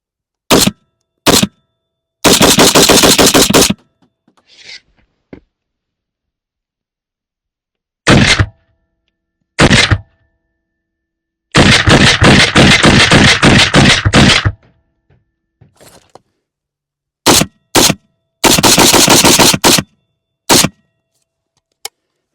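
A Thunder Ranch BFT47 rifle fires outdoors in several close, loud bursts of rapid shots separated by silences, with a few isolated single shots in between.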